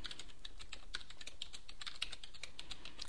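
Steady, fast typing on a computer keyboard while someone enters programming code, with dense clicking keystrokes continuing alone throughout at moderate volume.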